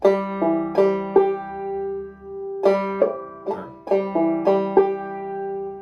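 Plucked banjo notes in a bouncing clawhammer drop-thumb rhythm, bright strikes ringing over a sustained drone string, played solo and up close.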